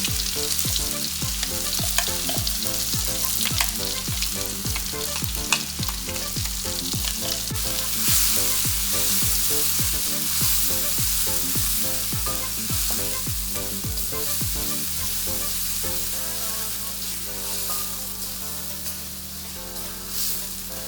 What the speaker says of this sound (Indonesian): Tumis bumbu sampai harum ya.